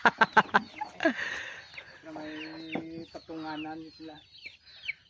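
Chickens at a small poultry yard cluck and chatter repeatedly, with sharp knocking or tapping sounds at the start and a steady, close chorus of hen calls throughout.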